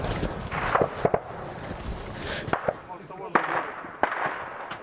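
Gunfire at the front line near Donetsk in eastern Ukraine rings out along a nominal ceasefire line. Several sharp cracks and bangs come at irregular intervals, some in quick pairs, over steady wind noise.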